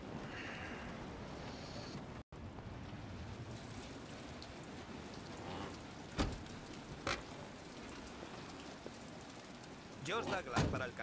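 Steady rain patters throughout in the video game Detroit: Become Human, with a few sharper drips and splashes standing out near the end.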